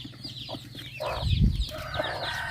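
A mother hen on a small backyard poultry farm clucks in short, soft repeated calls at close range, with low rustling and ambient farmyard noise around her.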